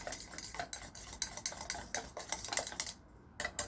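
An anti-aging cream mixture with collagen drops is stirred in a small container, quiet close clinking and scraping of a utensil in irregular bursts.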